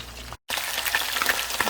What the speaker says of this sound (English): I've put two of my fish in to fry, and it's on medium high.